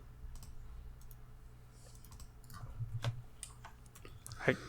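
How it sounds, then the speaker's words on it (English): Quiet clicking keystrokes on a computer keyboard while typing into a search bar, soft irregular taps spread over a few seconds with a sharper click near the end against a low background hum. "I started typing clap sync into the search bar instead of time.gov"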